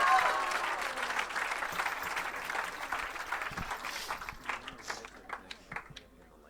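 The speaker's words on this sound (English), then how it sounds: "Give a big round of applause for Carlos and Bar." Audience applause at an evening kirtan festival event, a dense wash of many hands clapping that gradually thins, with a few louder individual claps near the end and some voices faintly mixed in.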